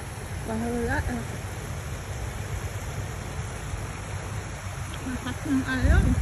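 Rushing river water surges steadily beside a stone-strewn riverbank, a broad continuous wash that swells louder near the end, with people talking intermittently over it.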